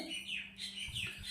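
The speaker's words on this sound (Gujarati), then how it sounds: "તમને પક્ષીનો અવાજ સંભળાય છે" A few quick, high bird chirps in short bursts, fairly faint and a little distant.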